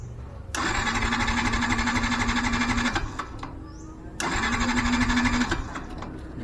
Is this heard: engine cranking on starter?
yes